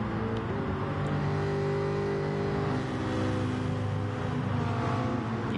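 A Jaguar Gr.4 race car in GT Sport accelerates down the back straight, its engine droning steadily and loudly at high revs throughout, close and continuous with no talk over it.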